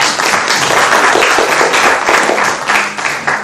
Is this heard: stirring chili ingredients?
no